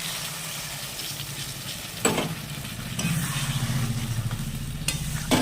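Spice paste sizzles in hot oil as a splash of water hits the pan, giving a sudden louder hiss partway through, then a steady close frying crackle with occasional stirring scrapes.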